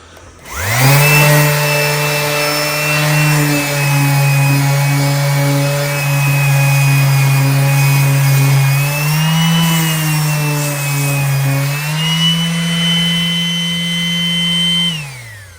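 A power sander grinds sandpaper across the floor pan of a 1990 Mustang GT, a loud steady motor whine that holds for about fifteen seconds, its pitch rising slightly near the end, with no talking.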